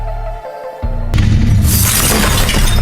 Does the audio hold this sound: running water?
no